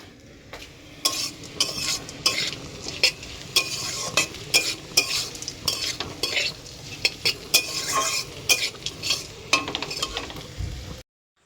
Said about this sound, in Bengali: আর এই যে আলুটা ভাজবো সকালে খাওয়ার জন্য